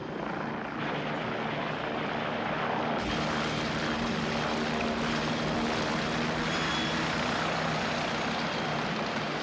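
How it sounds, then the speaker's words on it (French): A loud helicopter roars steadily and close by, its engine and rotor noise filling the whole stretch without pause. "Voilà votre hélicoptère."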